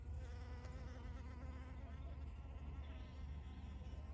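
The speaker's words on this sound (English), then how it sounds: "This bee is pollinating the cucumbers as we are watching." A bee buzzes steadily and close by among cucumber flowers in a garden, a continuous droning hum with no pauses.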